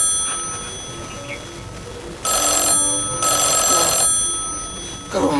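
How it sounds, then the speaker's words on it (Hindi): Telephone ringing with two loud bursts of bright electronic bell trill over a steady tonal background hum, a third ring just starting at the end. "किसका फोन आ गया?"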